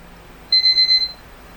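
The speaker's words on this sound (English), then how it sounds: "choose Add New to pick a song from your smartphone, or select one of those sounds, like beep" A short electronic alarm beep from an Infinix Note 60 phone rings out, a quick series of four high pulses blending into one tone, clear and alone over faint hiss.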